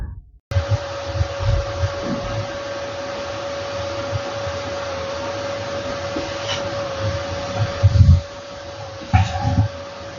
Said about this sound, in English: So I'm just going to quickly get a vacuum, and then we can vacuum this thing, just clean it before we go any further.